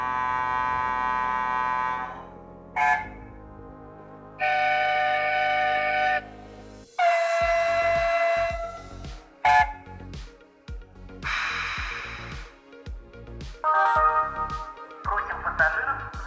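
Horn sounds from a VL23 electric locomotive sound decoder in an H0 scale model: a series of separate horn and whistle blasts of varied pitch and length, some long sustained tones, others short toots, separated by gaps, with mechanical clicking underneath.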